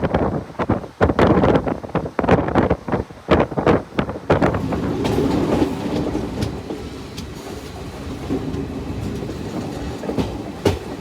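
Garib Rath passenger train pulling into New Bongaigaon station, with loud clattering wheel clicks and thumps over the first few seconds settling into a steady rumble and wind noise as it slows, no talking.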